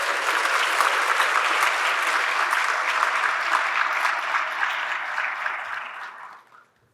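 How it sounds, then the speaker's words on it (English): An audience at a city's State of the City address gives sustained applause for the event's sponsors, a dense wash of clapping lasting several seconds before tapering off quickly at the end. "Let's have a round of applause for our gracious sponsors."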